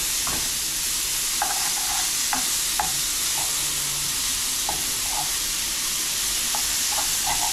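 Meat sizzling and frying on a hot griddle for a pita gyro, a steady dense hiss with a few faint clicks and pops, close and continuous, no voices.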